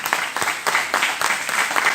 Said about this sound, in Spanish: ¿No le quieres dar un aplauso al Señor?